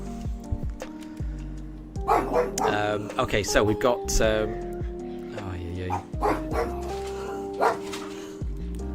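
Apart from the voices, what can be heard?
dogs barking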